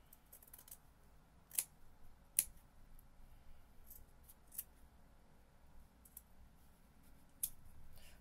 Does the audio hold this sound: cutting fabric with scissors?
yes